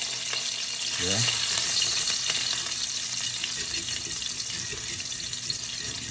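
Fresh thyme and garlic fry in hot oil in a frying pan with a constant, close sizzle and crackle, steady throughout, and a brief spoken word near the start.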